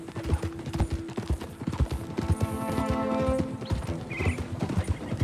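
Horse hooves clip-clopping in Red Dead Redemption 2, a steady close trotting rhythm with a brief whinny, set against game music and ambient sound.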